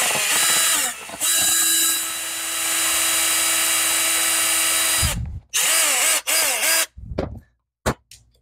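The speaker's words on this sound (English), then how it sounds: "I'm going to use this egg carton as a surface so I don't drill through my table." A power drill whines loudly and steadily as it bores a hole into a surface resting on an egg carton, then stops and restarts in several short bursts before falling quiet.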